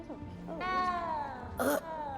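In the video game Hogwarts Legacy, a cat gives a drawn-out, plaintive meow followed by a brief sharper cry, close and clear, with faint game ambience underneath.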